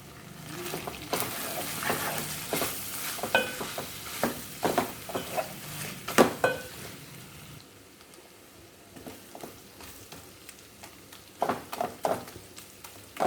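Mutton chops fry uncovered in an open pan, giving a steady sizzle broken by bursts of louder crackle and scraping as the pieces are stirred, easing quieter in the middle before more stirring clatter returns.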